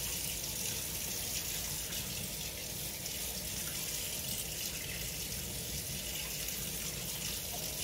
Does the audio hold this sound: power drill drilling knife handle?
no